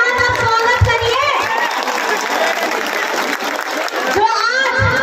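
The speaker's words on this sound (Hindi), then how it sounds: "भैया का जोरदार तालियों के साथ आप स्वागत करिए" A rally crowd in Jharkhand bursts into loud, dense applause to welcome a speaker, a continuous roar of clapping with voices and children mixed in, swelling again near the end.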